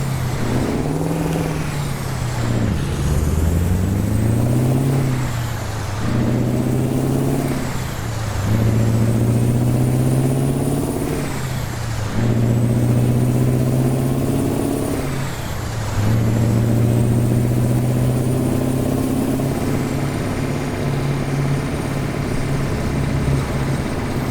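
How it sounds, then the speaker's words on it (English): A Mack Superliner truck in American Truck Simulator, its engine repeatedly revving up and dropping back with engine-brake drone between shifts, a loud steady low rumble throughout with no talk. "The engine brake isn't overpowering either."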